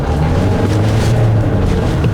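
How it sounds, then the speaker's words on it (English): A 2022 Hyundai Tucson's diesel engine pulls under acceleration as a steady, loud low drone and rumble that fills the cabin continuously, with no talk over it. "you can hear the diesel engine when you step on it"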